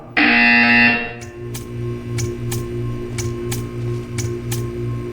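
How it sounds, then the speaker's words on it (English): A loud, harsh electronic buzzer in Portal 2 sounds for about a second, then gives way to a steady rhythmic ticking and mechanical pulsing with sharp clicks. "You will hear a buzzer."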